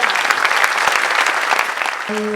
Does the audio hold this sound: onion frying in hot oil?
no